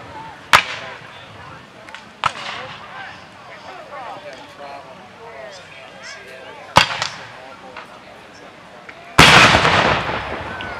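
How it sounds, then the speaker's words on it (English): Civil War reenactment battle at the Jackson muster: sharp musket and artillery reports crack out at irregular intervals, with a heavier, longer blast near the end, while someone narrates over the distant field noise. "Artillery still firing away. There's a little volley from maybe a squad of Confederates off to the south"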